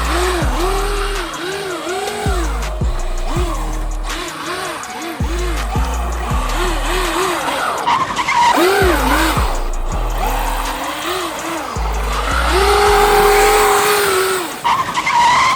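A Traxxas UDR 6s RC truck drifts across ice, its electric motor whining loudly and rising and falling in repeated sweeps as the throttle pulses, with a sustained high-pitched surge near the end.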